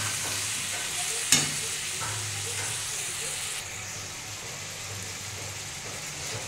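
Spices with turmeric fry in oil with a splash of water in a pan, making a continuous even sizzle with a single sharp utensil clink early on, close and steady, with faint low background hum.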